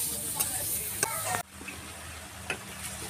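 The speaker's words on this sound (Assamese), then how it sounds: "এটা শুকান কেৰাহীত মুঠ হ'ব নিমখ আৰু পিঁয়াজ দি পিঁয়াজহে ভাজি থকা হৈছে" Onions frying with salt in a dry wok, a close crackling sizzle with spoon scrapes that cuts out abruptly midway, then returns as a quieter fry with a few more scrapes.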